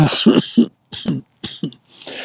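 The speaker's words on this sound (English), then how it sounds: "you've probably seen me coughing like this" A series of harsh, close coughs in quick bursts, with short pauses between, ending in a softer rasping breath.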